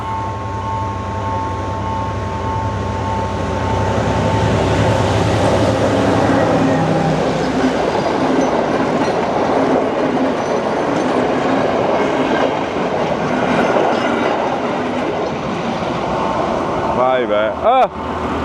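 A train rumbles past close by in Matara, Sri Lanka, with a steady, loud roar and rattling wheels, ending with squealing metallic tones.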